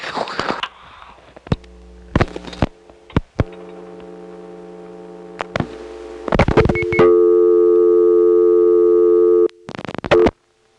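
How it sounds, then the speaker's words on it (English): Dialing on a 1977 Step-ESS telephone exchange in Smyrna, Georgia: sharp isolated clicks and short bursts, then steady humming call-progress tones that hold for several seconds before cutting off, with a final burst of tones. "now I'll demonstrate dialing 44 plus 0 plus the last 4 digits"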